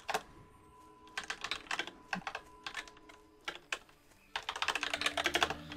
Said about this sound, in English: hate typing on this keyboard.